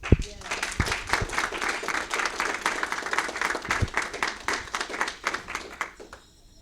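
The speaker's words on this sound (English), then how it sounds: "Let us give her another round of applause." Applause at an African diaspora tourism awards expo: a crowd claps in a loose, rapid patter for several seconds, moderately distant, with a few louder individual claps and voices mixed in before it tapers off.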